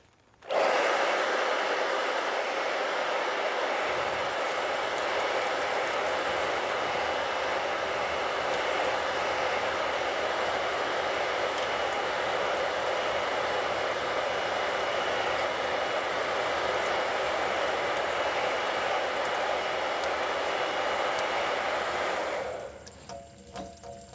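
A hair dryer blows steadily on an acrylic painting, a loud continuous whooshing hum that starts abruptly, holds evenly for about twenty seconds, then switches off.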